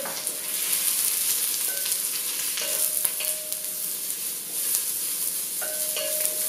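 Red onions and garlic sizzle steadily in a pan over medium heat, a continuous close crackle with occasional stirring scrapes and no talking.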